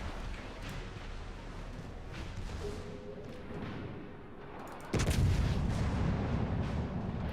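Heavy naval gunfire from a battleship in an online naval warfare game, a booming salvo arriving suddenly midway and rumbling loudly to the end over a low background of game ambience.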